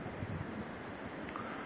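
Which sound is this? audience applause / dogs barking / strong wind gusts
strong wind gusts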